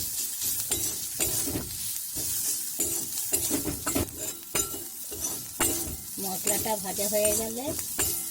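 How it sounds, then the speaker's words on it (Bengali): Ground spice masala with turmeric and chili powder sizzles in a pan while a utensil stirs and scrapes in repeated strokes, close and continuous, with a short vocal murmur near the end. "একটু লঙ্কার গুঁড়ো। এই মশলাটা একটু ভেজে নেব।"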